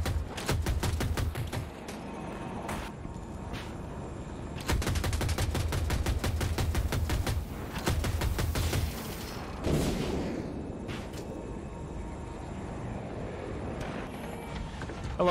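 25 millimeter cannon fire in Battlefield 2042 during vehicle combat: long bursts of rapid, evenly spaced shots, loud and sustained, with short pauses between volleys.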